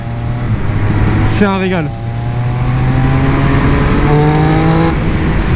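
A Triumph Speed Triple 1200 RS motorcycle on damp roads drops quickly through gears with a quickshifter, its engine note stepping down in a rapid run of blips, then droning steadily. A rider speaks briefly over it.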